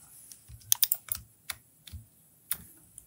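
Typing on a computer keyboard while modelling in SketchUp: scattered key taps and short clusters of clicks, close and fairly crisp, with long pauses between them and no talk.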